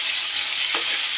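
Chopped raw tomatoes sizzle in hot oil in a pan while being stirred for a fish curry, a brief, close, steady frying hiss with a scrape of the spoon and no talk.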